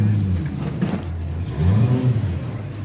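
An off-road race truck at King of the Hammers, hung up on rocks with a flat tire, growls with a low engine that revs and surges unevenly, loud and close, without speech over it.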